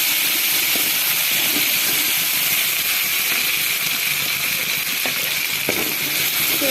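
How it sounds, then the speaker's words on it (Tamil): Ground masala paste with cumin frying in hot oil in a pan for a veg mix paneer masala, giving a steady, loud, close hiss and sizzle throughout, with a few faint clicks of stirring. "சேர்த்து கொஞ்சம் நல்லா பச்சை வாசனை போகிற வரைக்கு நல்லா எண்ணெய் தான் ஃப்ரை பண்ணிக்கலாம்."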